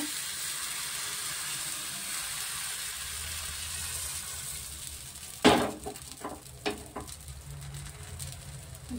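Saruchakli rice batter hits a hot pan with a sharp hiss that settles into a steady, gentle sizzle, followed by a few clinking ladle and pan sounds.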